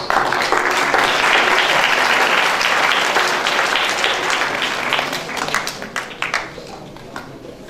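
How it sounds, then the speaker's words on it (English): Sustained crowd applause at a college sports day in Ghora Gali, Murree, steady and dense at first, then thinning into scattered individual claps toward the end. "They are skillful and spirited and deserve rich applause and commendation from all of us."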